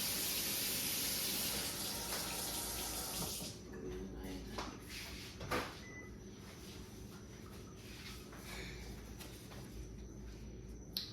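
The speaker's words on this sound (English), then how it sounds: "rinsing my knife." Tap water runs steadily over a kitchen knife being rinsed, a broad gush for the first few seconds, then a softer, thinner trickle with light clinks and splashes while handling continues close by.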